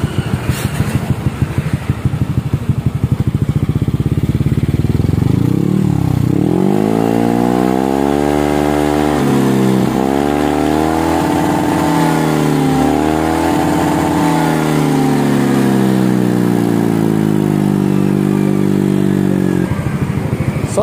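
A Yamaha Aerox scooter with a Rob1 exhaust revs up loud and close, the engine note climbing and falling through repeated throttle blips for about fifteen seconds after a steadier idle, with no voices.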